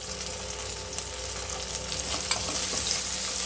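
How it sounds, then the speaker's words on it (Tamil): Onions sautéing in a pan for Tamil fish curry (meen kulambu), with curry leaves joining at this stage; a steady, close frying sizzle with soft stirring scrapes throughout, no voices. "நல்லா வெங்காயம் அப்படியே வதங்கிட்டு வருது"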